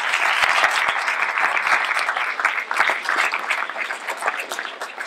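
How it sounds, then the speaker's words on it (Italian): Sustained, dense applause from a cinema audience at an Italian film presentation, loud and continuous for the whole stretch with crisp individual claps standing out near the microphone. "Quindi un applauso a Cristian Lapiana."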